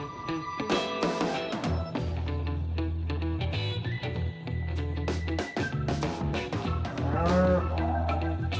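Cattle lowing amid a buffalo versus bull fight, with dense animal vocalisations and harmonic moos layered over a steady rumbling din, the calls repeating loudly throughout without pause.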